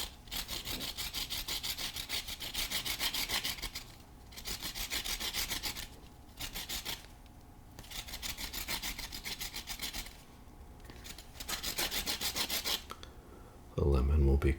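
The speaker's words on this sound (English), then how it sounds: "I'm just going to get some zest from this lemon. Got my little microplane grater here" A lemon rubbed over a microplane grater in steady rasping strokes, close and crisp, coming in repeated bursts with short pauses between, no talk.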